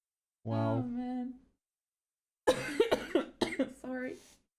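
A short burst of several harsh coughs, close and fairly loud, following an earlier stretch of voice, during a lively session of laughing and talking at a robotics competition.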